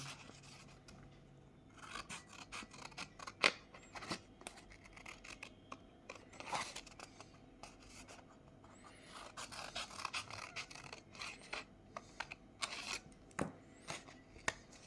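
A paper circle cut across at an angle with scissors, heard as quiet, close snips and rustling paper in a hushed room.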